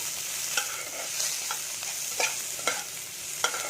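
Onion and grated ginger frying together in a pan, a continuous close sizzle broken by several sharp scraping stirs of a spatula at irregular intervals, with no voices.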